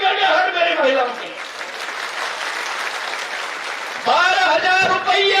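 Women in a crowd at a political rally applaud loudly and continuously, while a voice speaks over the clapping at the start and end.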